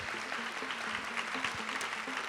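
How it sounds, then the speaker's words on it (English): A crowd claps steadily for a couple of seconds, a dense patter of applause at moderate volume. "Let's get a big round of applause, please, for them participating."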